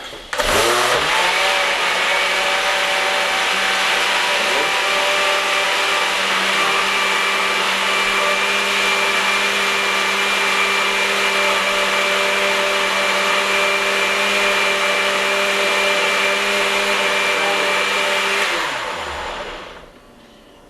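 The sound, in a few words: blender blending pickle brine with celery seed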